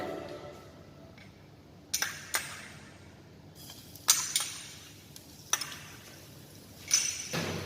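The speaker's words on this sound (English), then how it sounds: "Now the oil is getting hot, so the timing is adding for garlic. Now I'm going to add garlic." Garlic in hot oil stirred with a ladle while cooking broad bean soup, with sharp metallic clinks and scrapes at intervals over a faint, soft sizzle.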